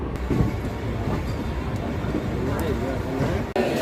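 At Chirala station the Circar Express rolls in with a steady rumble and rattle of wheels and carriages, loud and close, while people talk over it.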